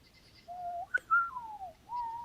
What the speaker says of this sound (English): the dude that did the whistle for the Clint Eastwood movie